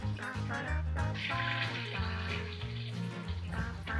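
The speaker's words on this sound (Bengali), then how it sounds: "জলটা গরম হয়ে গেছে, আমি এবার গরম জলটা এটা দিয়ে দেবো" About half a bowl of hot water splashes and gurgles into a pan of mutton masala, a continuous close pour with a bubbling tone and no one speaking.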